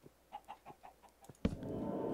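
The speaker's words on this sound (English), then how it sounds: "Oh man, I really should kill these chickens" Chickens in the Minecraft video game cluck in a quick series of short, soft calls, then a sudden louder burst of noise cuts in and continues.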